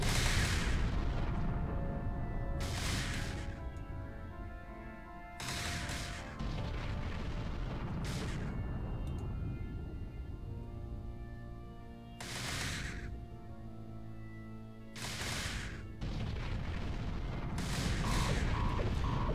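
Repeated bursts of weapons fire from a space combat game ring out in clusters over a steady engine drone, each volley loud and sharp with short gaps between.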